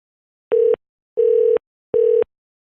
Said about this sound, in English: Make a ringing sound and then it's busy.